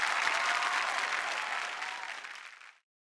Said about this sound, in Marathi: अभिषेक सरांसाठी एकदा जोरदार टाळ्या